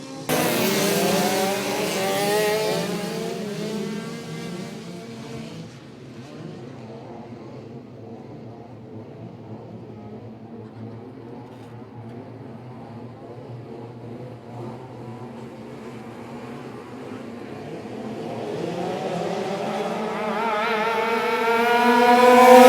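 Engines of 125-class racing karts at a state titles kart race meeting roar loudly nearby, fade to a distant drone as the pack moves away, then build again to a close, revving howl.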